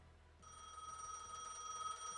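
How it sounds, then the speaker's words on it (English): An electronic telephone starts ringing in the video game Gas Station Simulator, a steady bright trilling bell tone that begins abruptly and continues on its own, faint and without speech. "Answer the phone call"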